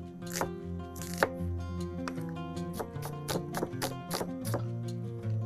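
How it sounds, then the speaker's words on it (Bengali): A knife chops onion on a board in steady close thuds, while a tonal hum lingers underneath and eggplant roasts nearby. "এই ফাঁকে আমি পেঁয়াজ এখানে একটা কেটেছি"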